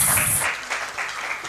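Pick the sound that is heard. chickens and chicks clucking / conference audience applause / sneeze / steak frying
conference audience applause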